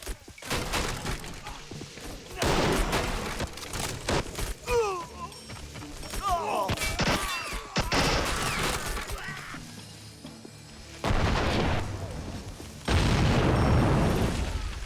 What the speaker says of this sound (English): More grenades thrown over here.